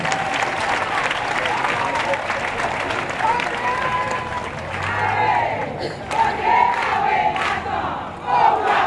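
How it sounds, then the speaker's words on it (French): An audience at a meeting of First Ladies in Benin bursts into loud, sustained applause mixed with cheering and shouts, rising and swelling in bursts near the end. "Je vous demande de les applaudir bien fort."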